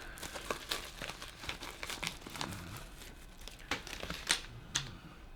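A plastic package holding stickers and a new black DLC pocket clip for a Jack Wolf knife crinkles as it is handled, giving quiet, close, irregular crackles and sharp snaps throughout with no talk.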